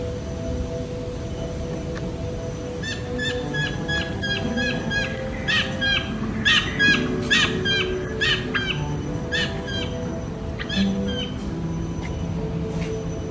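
Repeated bright magpie robin whistles and chirps over a constant low background hum, with phrases coming in clusters throughout.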